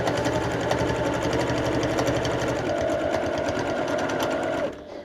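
Bernette 08 straight-stitch sewing machine stitching in reverse through thick layers, a loud, steady, rapid mechanical whir up close that stops abruptly near the end.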